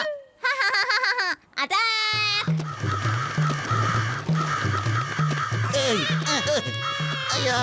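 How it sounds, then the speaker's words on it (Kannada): A flock of cartoon crows caws in quick, squawking bursts over a bouncy, rhythmic music track, the calls rising and falling throughout. "ಕಾಗೆಗಳ ಸಂತತಿನೇ ನಮ್ ಫಾಲೋ ಮಾಡ್ಕೊಂಡ್ ಬರ್ತಾ ಇದೆ"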